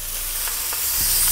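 Halved, spiced chicken pieces sizzle steadily in a hot frying pan, a close, continuous hiss of frying fat with faint crackles and no talking.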